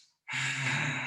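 A deep inhale during a yoga session, a single close, breathy intake that starts abruptly after a moment of silence and holds steady to the end.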